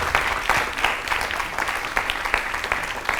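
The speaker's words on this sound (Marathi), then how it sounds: "एकदा तुम्हा सगळ्यांसाठी जोरदार टाळ्या." An audience claps warmly for the children of a school environment programme, sustained applause with dense, even clapping that stays loud throughout.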